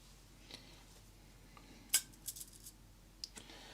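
Scissors snipping the stroked-back butt ends of feathers for a Brown Drake parachute spinner dry fly: one crisp, quiet metallic snip followed by a few fainter clicks, close by and alone with no talk.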